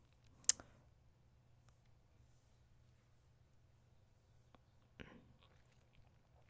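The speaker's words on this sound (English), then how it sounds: "So let's just cut the cord, all of these cords." Scissors cut through macrame cords for earrings, giving two sharp isolated snips several seconds apart in an otherwise quiet room.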